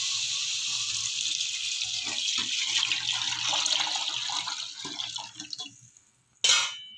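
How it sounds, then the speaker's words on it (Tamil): Coconut milk pours into a cooking pot in a steady liquid stream, close and continuous, tapering off before a short clatter at the end. "ஸோ இதை வந்து அதில் ஊற்றிடலாம்."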